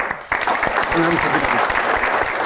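Studio audience clapping for the winners of a game-show round during a holiday entertainment program, a steady dense applause filling the clip with a brief voice underneath.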